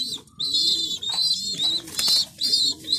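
Pigeon chicks starting to feed themselves give high, thin repeated kiki calls, a rapid series of close squeaky peeps in short bursts, with soft low cooing beneath.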